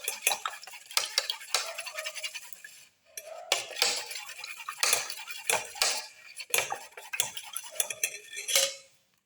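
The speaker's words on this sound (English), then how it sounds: "Mix the eggs." Eggs beaten in a bowl for a black pepper cilantro omelette, with rapid repeated clinking strokes of a utensil against the bowl in several bursts separated by short pauses.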